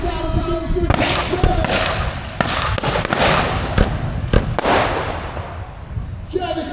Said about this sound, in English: The warship speaks out and begins to attack